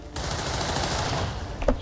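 A burst of automatic gunfire from a soldier's weapon in XCOM 2, a missed shot rattling loud and close for over a second with a dense, rapid crackle and a faint tail, and no talk.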